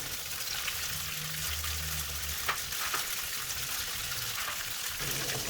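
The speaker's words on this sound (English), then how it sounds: "Once oil is hot, add in the beancurd." Soft, even sizzling of beancurd frying in hot oil in a frying pan at medium-low heat, a steady hiss with faint low hum in the background.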